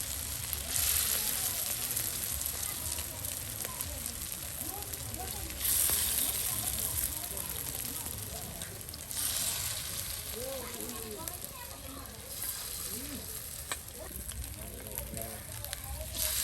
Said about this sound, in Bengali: কত সুন্দর করে কিন্তু তেলে দেখুন ভেজে নেওয়া হচ্ছে